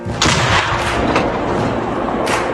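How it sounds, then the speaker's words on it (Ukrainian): A few heavy booms from artillery cannon fire, the first loud and close, followed by rumbling echoes and another blast near the end. "Гармата постріл!"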